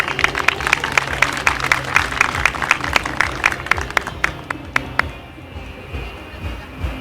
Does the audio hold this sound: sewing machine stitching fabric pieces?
no